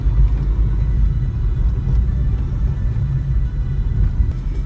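Steady low engine rumble from a Tata Tiago's three-cylinder petrol engine, heard continuously from inside the car at a constant idle-like drone with no talk.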